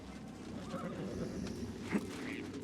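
A horse whinnies briefly in the video game Assassin's Creed Mirage over a steady low ambient bed, with faint hoof clops nearby; no one speaks.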